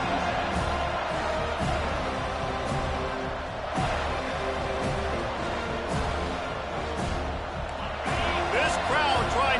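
Stadium crowd in the NCAA 25 college football video game, a steady dense roar filling the whole stretch at a constant level, with a commentator talking over it.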